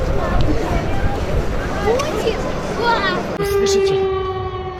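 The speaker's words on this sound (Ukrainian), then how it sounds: "Вот так пугающе звучат сирены. Это воздушная тревога." An air raid siren wails over crowd chatter and outdoor noise, with a steady rising tone standing out clearly near the end.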